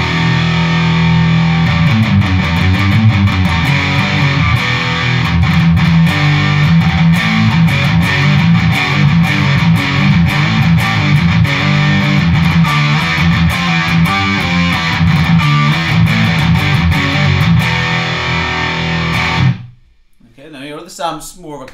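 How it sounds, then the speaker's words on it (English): Heavily distorted electric guitar played through a Cornford Roadhouse 30 head with mids scooped out, bass just past noon and treble high, giving a thick, loud metal tone with chugging riffs for about twenty seconds before stopping abruptly. "get more of a metal sound anyway, what I would do is scoop the mids"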